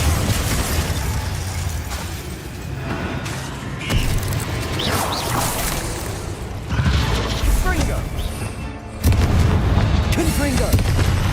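Confringo spell blasts explode in Hogwarts Legacy during a fight with spiders: several loud booming bursts land a few seconds apart over continuous combat noise, with voices speaking between them.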